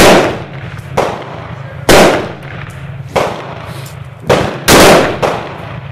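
A .44 Pietta 1851 Confederate Navy black-powder revolver fires outdoors: five loud, sharp reports spaced about a second apart, each trailing off into a short echo.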